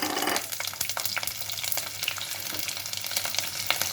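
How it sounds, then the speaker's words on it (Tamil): Mustard seeds, fenugreek and garlic frying in hot sesame oil for a fish-head curry, a dense continuous sizzle with scattered sharp pops and spatters close by, no talk. "நல்லெண்ணெய் கொஞ்சம் கூடையே ஊற்றிக்கணும் கடுகு வெந்தயம் பூண்டு போட்டுக்கலாம்"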